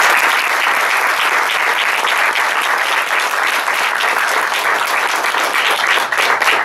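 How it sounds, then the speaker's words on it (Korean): A crowd at a film director's Q&A with families of Sewol ferry victims gives loud, continuous applause, a thick, even wash of many hands clapping at close range that holds steady throughout. "다시 한번 박수 좀 부탁드립니다"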